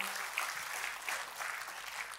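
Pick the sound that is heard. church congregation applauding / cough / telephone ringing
church congregation applauding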